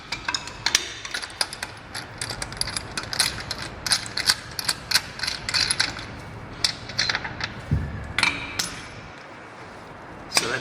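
A ratchet tool works off the remains of a swollen Ford wheel nut, giving bursts of sharp metallic clicks and clanks in irregular runs, with short pauses and a brief dull knock partway through.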